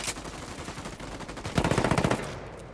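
Automatic gunfire in the tactical shooter Ghost Recon Wildlands, a rapid burst of about a dozen loud shots near the end over a steady background of in-game ambience and earlier scattered distant fire.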